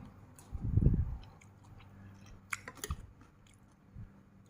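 Someone close by eats Thai cucumber salad (tam taeng), giving a few moist crunchy bites and soft wet chewing, loudest at the start and then tapering into scattered quieter munches.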